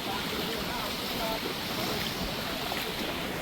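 Sea surf washing against the shore at Jaffna, with a steady, broadband roar and some wind buffeting the microphone, continuous and fairly loud throughout.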